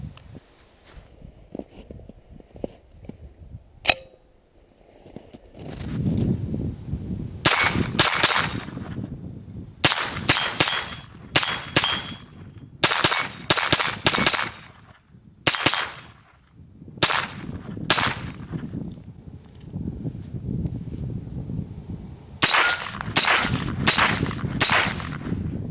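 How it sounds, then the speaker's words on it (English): Rapid strings of sharp gunshots from a Just Right Carbine 9mm pistol-caliber carbine, fired in several quick bursts of closely spaced shots separated by short pauses, loud and near with faint clanks between. "let's go ahead and take some shots without further ado and see how well she runs."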